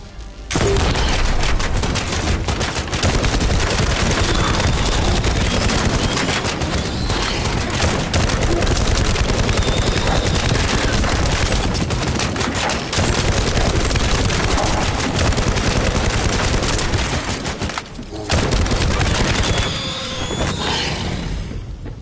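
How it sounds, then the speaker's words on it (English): Pistol fire against swarming bug enemies in The First Descendant, a dense, continuous barrage of shots and impacts layered over loud game noise, almost unbroken for the whole stretch apart from a brief dip near the end. "Been shooting enemies. Like a bunch of termites coming into my living room, shooting them with my pistol."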